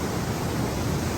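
A river waterfall, hard to reach, at high water, producing a constant loud broadband rush of falling water with no voices.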